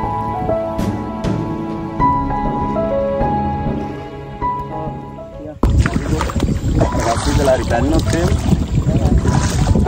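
A canoe ride through Bundala National Park in Sri Lanka in cold wind: gentle music plays first, then it cuts abruptly to a loud, steady rush of wind buffeting the microphone over water.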